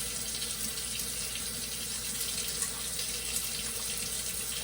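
Tap water running steadily into a sink while hands are rinsed, a continuous, even rush of splashing water at close range with no pauses.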